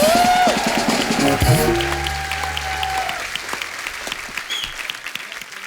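Loud studio audience applause on The Kapil Sharma Show, a dense burst of clapping that swells at first, runs steadily for several seconds, then thins toward the end, with music and tones ringing underneath.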